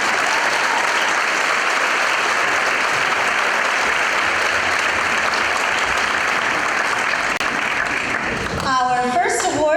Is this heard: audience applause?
yes